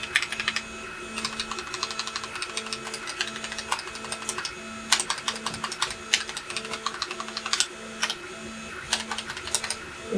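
A BBC Model B computer keyboard under repair, its keys pressed in rapid, irregular clacking runs with short pauses, loud and close beside a faint steady electrical tone.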